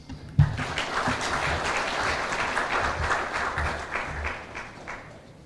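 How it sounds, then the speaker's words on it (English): A crowd applauds steadily for several seconds, a dense wash of clapping that stays even and then fades slightly toward the end. "please a round of applause"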